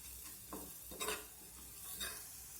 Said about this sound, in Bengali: হলুদ আর কাশ্মীরি লঙ্কার গুঁড়োটা দেওয়ার পর আমি আবার একটু পেঁয়াজটাকে ভেজে নেব